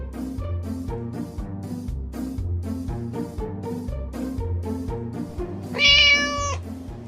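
Cats at a rescue shelter and adoption center meow as music plays steadily underneath, with one loud, close meow standing out near the end.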